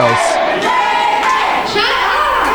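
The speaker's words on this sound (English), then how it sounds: "this crowd is vocal for their hometown heroes" Loud wrestling arena crowd cheering and yelling for hometown favorites at a live independent wrestling event, a dense close roar of many voices with some shouted calls standing out.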